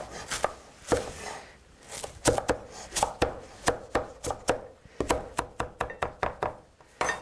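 Dull knife chopping parsley on a wooden board, a loud close run of sharp knocking thunks, irregular at first then quickening into steady bursts, with no talking.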